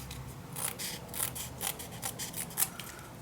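Scissors snip through paper while trimming pieces for a steampunk mini album, giving a quick run of close, crisp metallic cuts in an otherwise quiet space.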